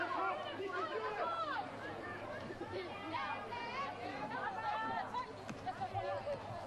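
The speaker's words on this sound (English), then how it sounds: "You can hear the crowd picking up as well." Crowd at a women's football stadium match, Canberra United against Western Sydney Wanderers, a steady roar and chatter of many voices building in the background beneath continuous commentary.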